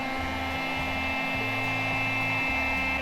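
A plastic welder runs steadily, melting plastic to repair a broken tank, with a constant hot-air whine and a low motor hum that dips and rises in uneven pulses, loud and close with no voices.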